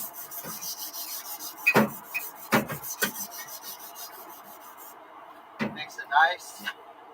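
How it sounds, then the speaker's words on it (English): Sandpaper rubs against an air conditioner shaft in short scratchy strokes, several rasping bursts spaced apart, close up with a faint hum underneath. "Work the sandpaper right, you get these real thin strips. You can actually turn the shaft with the sandpaper."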